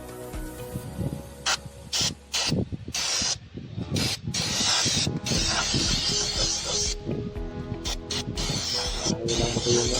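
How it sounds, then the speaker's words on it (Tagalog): Carburetor choke cleaner hisses from a spray can onto the engine of a 2014 Chevrolet Tahoe in repeated bursts, close up, mixed with clattering and ratcheting mechanical noise. "Ito yung pa-spray yan. Car vapor choke cleaner."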